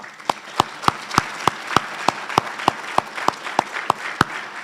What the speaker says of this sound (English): I think they all need a round of applause.